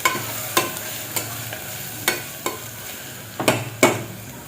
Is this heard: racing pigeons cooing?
no